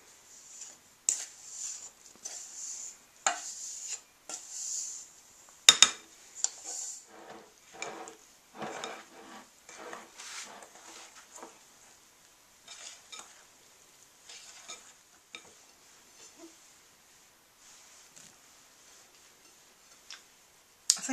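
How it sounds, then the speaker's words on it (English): Dry and wet cake batter mixed together in a bowl, a soft irregular run of scraping, tapping strokes at close range, quiet and steady with no talking. "I'm going to mix my dry mixture with my wet mixture"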